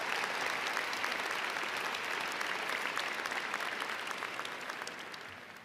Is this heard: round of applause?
yes